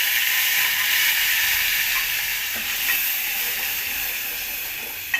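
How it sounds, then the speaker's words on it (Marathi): Ground masala paste hits hot oil in a pan for a home-style eggplant bhaji, giving a steady, loud sizzle and hiss that runs unbroken with a slight fade and a small clink near the end. "तेल छान असं गरम झाले आणि जे मी बारीक केलेलं वाटण होतं आता ते टाकते"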